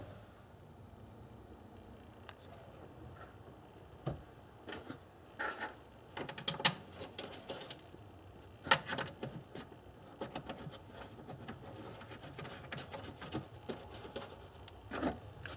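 Bolts being threaded back into a Nissan Maxima power antenna mount, with scattered metallic clicks, ratcheting and small clanks coming in irregular bursts close by at low level, no talking.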